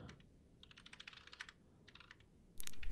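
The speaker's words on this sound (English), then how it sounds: "I was typing in chat to let them know we are ready." Bursts of quick keystrokes on a computer keyboard tap out chat messages during an esports match, in two short runs with a pause between, quiet and close, before a louder rustle at the end.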